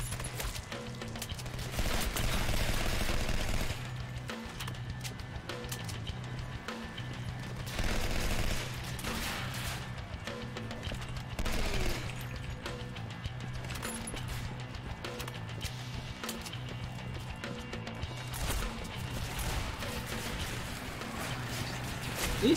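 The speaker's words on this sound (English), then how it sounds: "I'm shooting." Continuous bursts of gunfire from the video game Legendary, dense rapid shots layered over game music and ambience, steady and loud throughout.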